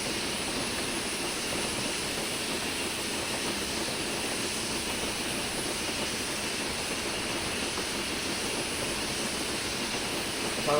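A steam locomotive on the Western Lines of Scotland in a train simulator game runs at full regulator, a steady, dense chuffing rumble holding at constant loudness throughout, with no speech over it.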